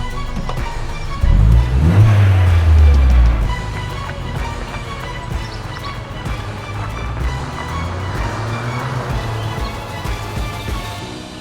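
A rebuilt Vauxhall Corsa VXR with a Ram air filter gets a quick rev: one loud, deep rising-and-falling engine roar, then a rougher idle rumbling on nearby with another softer swell later.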